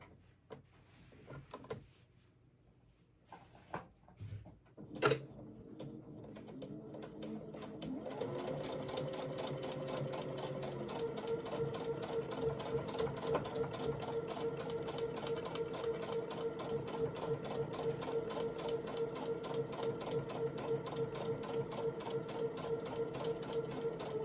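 A sewing machine runs steadily down a paper-pieced seam, its rapid rhythmic needle chatter holding a constant pace for many seconds after a few opening knocks and rustles of paper and fabric being set in place.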